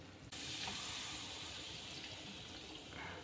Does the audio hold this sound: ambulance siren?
no